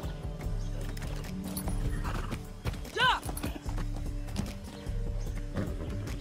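A horse in the Far Cry 6 game clip-clops along with steady hoofbeats and gives a loud whinny midway, while someone talks over it and shouts once.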